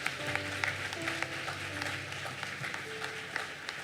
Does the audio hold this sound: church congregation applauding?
yes